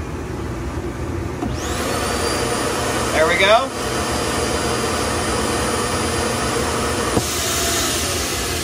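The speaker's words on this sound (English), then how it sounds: "one of the things that took the most power was turning on the vacuum cleaner. So let's turn that on" A vacuum cleaner runs on inverter power from a 36V lithium camper battery, switching on with a loud steady whine and broadband roar beside a running air conditioner, then cutting off near the end, with a brief spoken remark.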